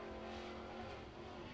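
An Outlaw Late Model race car runs a qualifying lap at Lancaster Motor Speedway, its engine a steady, fairly faint drone heard from a distance with no talk over it.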